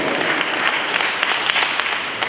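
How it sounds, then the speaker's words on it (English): Steady applause from an audience honoring a speaker, close and fairly loud, an even patter of many hands lasting a couple of seconds. "Give him a round of applause."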